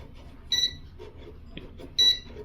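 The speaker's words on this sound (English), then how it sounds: "Hear the beep." Two short, high electronic beeps from a voltage detector during bathroom renovation work, about a second and a half apart, sounding close over faint background noise.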